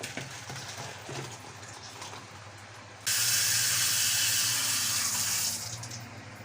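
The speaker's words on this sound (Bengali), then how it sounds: "হয়ে গেছে ডাল রেডি এবার ঢেলে দিচ্ছি" Cooked pea lentil dal with drumsticks is poured out of the pot. The sound starts as faint background and becomes a steady, fairly loud liquid rush that lasts a few seconds before easing off.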